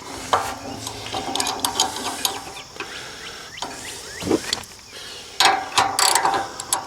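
Ratchet straps on a heavy-duty Versahaul hitch carrier get cranked tight around a Honda CRF250L dual-sport motorcycle on a Jeep Wrangler, with repeated quick clicking bursts and mechanical clunks close by, no talking.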